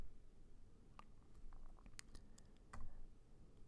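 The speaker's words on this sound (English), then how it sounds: "If I type in a number," A few sparse, faint clicks come from a computer keyboard as a number is typed in, with light tapping scattered over a few seconds in a quiet room.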